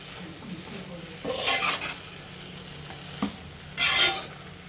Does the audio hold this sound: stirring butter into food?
yes